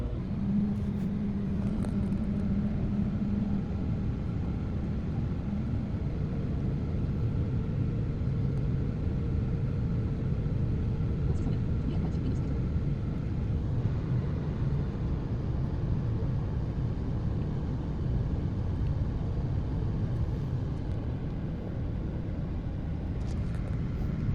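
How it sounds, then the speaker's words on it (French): A car ferry carrying a car across the Seine gives off a constant low mechanical rumble and hum, steady and unbroken throughout, with no distinct events standing out. "on va aller prendre un espèce de ferry pour traverser la Seine. avec la voiture"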